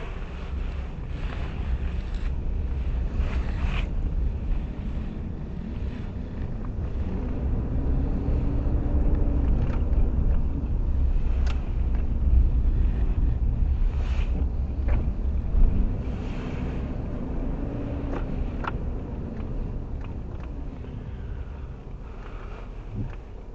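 Mercedes-Benz W126 driving at night with the heater fan on maximum: a steady low engine and road rumble with a broad airy blower hiss and wind-like noise, continuous and fairly loud throughout, no talking.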